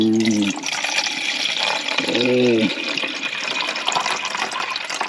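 Tap water running into a pot to cook grits at a solo campsite, a steady close splashing rush throughout, briefly joined by two short low hums or voice-like sounds near the start and middle.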